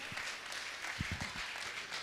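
A small audience gives a brief, scattered round of applause at a religious gathering, with soft claps bunching together near the middle before fading into room noise.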